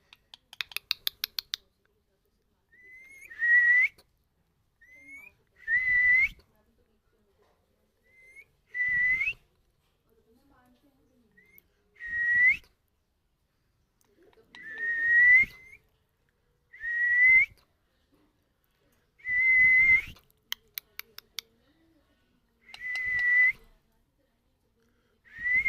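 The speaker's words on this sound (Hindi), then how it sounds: "कितनी सीटी मारे हो, कितने सब्सक्राइबर बढ़ाएंगी तुम्हारी सीटी" A pet parrot whistles repeatedly, about ten short rising whistles spaced a couple of seconds apart, close to the microphone with quiet gaps between, plus a few brief clicking taps.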